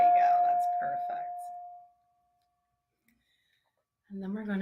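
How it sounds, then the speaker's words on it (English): A small handheld bell rings once with a clear sustained tone that slowly fades to silence, starting under a moment of speech and followed later by a voice talking. "every time a bell rings, an angel earns its wings"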